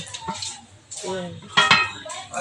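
Metal cooking pots being handled for cleaning after a flood, with several clanking knocks and scrapes close by, mixed with a voice talking.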